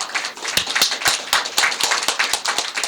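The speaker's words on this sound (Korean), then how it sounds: "박수 한번 칩시다" An audience at an award ceremony claps, mostly in sharp, fairly regular beats that build into brisk applause, close and clear.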